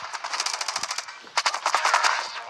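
Video game pistol fire comes in two quick, rapid strings of sharp pops separated by a short pause, moderately loud and with no talking over it.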